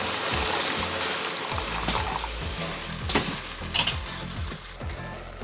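Meat heats in a pot over a fire and begins to boil, with a steady close hiss and bubbling broken by occasional louder pops and stirs.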